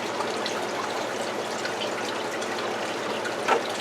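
Water drains from a snail tank straight into a bucket, a steady, even rushing trickle that carries on without pause, fairly close and alone.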